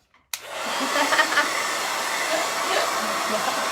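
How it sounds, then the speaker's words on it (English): A hair dryer switches on abruptly and blows a steady, loud, close-up roar over freshly painted artwork, holding constant with no talking. "So I'm gonna hit it with the blow dryer"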